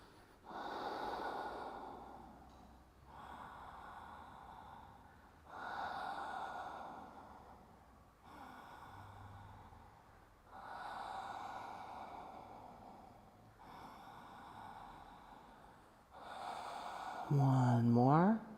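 Deep breathing during a yoga class, slow inhales and exhales repeating at an even pace about every three seconds, close and soft, with a louder sharp sniff or gasp near the end.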